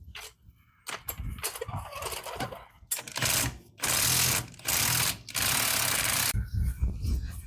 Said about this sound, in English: I'm gonna bust these wheels off and see what we're working with.